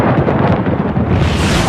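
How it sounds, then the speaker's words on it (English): Lightning strikes a metal menu board at a restaurant during a storm, producing a loud, sustained roaring rumble of thunder that fills the whole moment with dense, heavy noise. "It seems a lightning bolt hit the metal menu board."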